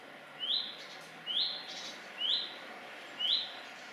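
Small bird giving a monotonous whistled call, four evenly spaced short rising notes about a second apart, fairly faint against a quiet outdoor background.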